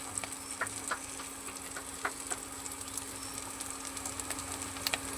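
Chopped garlic frying in hot oil in a wok makes a soft, steady sizzle with scattered crackles and pops, heard close and without talk.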